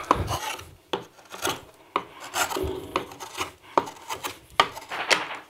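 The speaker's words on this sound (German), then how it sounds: "Hier kann ich jetzt mit diesem Halseisen immer tiefer ausarbeiten." A gouge cuts repeatedly into the wooden back of a violin under construction. The strokes are rough, rasping and scraping, arriving in a steady rhythm of about one per second. They sound close and fairly loud, with no talking.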